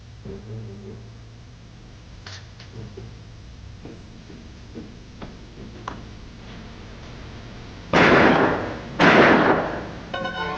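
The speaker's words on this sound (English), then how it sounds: "Sounded like the shots came from up the street." Two loud, close gunshot-like bangs in a radio drama, each a sharp burst with a short tail, coming after a stretch of faint ticking and knocking, followed by a rapid patter of smaller clicks.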